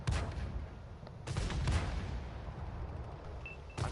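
RDF rifle shots in a video game, a few sharp, loud reports spaced over a few seconds among steady gameplay background noise.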